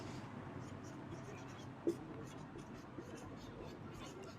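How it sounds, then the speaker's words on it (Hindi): Marker or chalk writing on a board during a Class 11 physics lesson on inertia and force, a faint steady scratching under room noise with one brief tap partway through. "यहाँ पर लिखेंगे अपन,"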